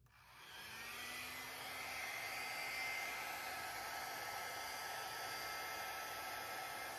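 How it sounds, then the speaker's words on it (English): A hairdryer blowing steadily on acrylic pour paint, a continuous airy rushing hum that starts up and holds at an even level for several seconds, close by and with no voices. "I'm going to try a little with the hairdryer"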